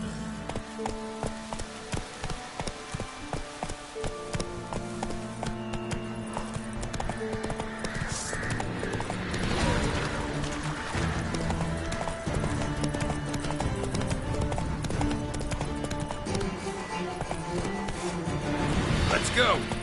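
Roach the horse gallops in The Witcher 3: Wild Hunt, a steady clip-clop of hooves running throughout with a brief whinny, set against game music and someone talking over it.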